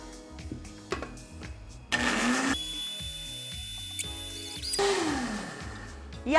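A blender beating eggs for carrot cake batter whirs loudly in two bursts, separated by quieter mechanical clinking and background music with a steady beat.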